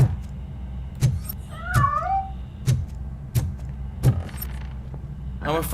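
A cat meows in RoboCop: Rogue City, a short wavering cry heard once midway and again at the end, over heavy rhythmic mechanical footsteps and clanks up close.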